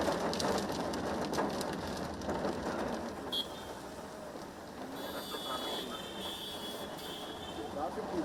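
Heavy evening rain falls across Bengaluru during a thunderstorm, a dense steady hiss of drops on surfaces, with faint bird calls and a voice speaking over it.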